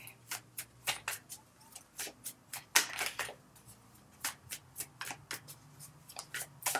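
Tarot cards being shuffled and drawn, a steady run of crisp riffling flicks and slaps close up, alone without talk.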